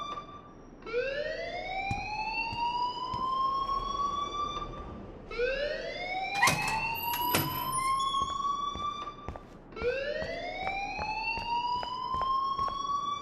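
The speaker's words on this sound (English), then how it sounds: "please turn off that alarm since that's your job" An alarm rings in the Life is Strange video game: a loud electronic wail sweeps upward and holds, repeating three times in steady cycles with no talking.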